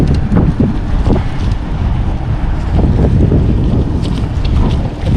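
Wind buffets the microphone while riding a Polygon Trid J5 bike outdoors, a loud, continuous rumbling roar with gusty swells and no clear voices.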